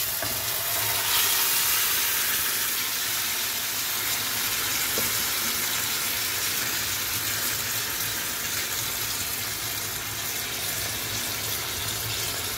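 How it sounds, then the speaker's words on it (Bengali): Mutton sautéing in a hot pan for a home-made mutton jhol gives a continuous loud, even sizzle, steady throughout with no voices. "এখন মাংসটাকে কষাতে হবে"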